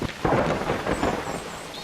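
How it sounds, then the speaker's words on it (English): A rainstorm in the city-building game The Universim brings a steady, dense downpour with deep rolling thunder, loud and close, and no one speaking. "Look at all this rain."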